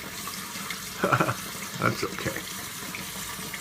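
A tap runs water into a sink in short bursts while soap is being mixed, fairly quiet, with a person speaking briefly.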